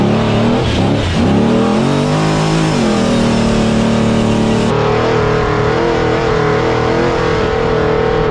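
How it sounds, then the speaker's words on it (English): Off-road trucks in a desert near Lake Havasu rev hard and rip around, a loud close engine roar rising and falling with steady throttle and gear changes throughout, with no talking. "We got two of the Havasu locals out here in their trucks ripping around."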